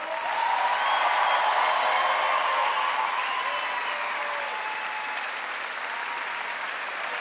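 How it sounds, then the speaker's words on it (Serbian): Concert audience applauding the Kolo National Ensemble at a Serbian trumpet and folk music show, sustained thick clapping from a large crowd, swelling early then holding steady and loud to the end. "veliki aplauz Nacionalni ansambl Kolo."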